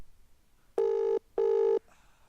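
Outgoing telephone call to a private number ringing back: two steady electronic ring tones, each under half a second, separated by a short gap, fairly quiet and alone.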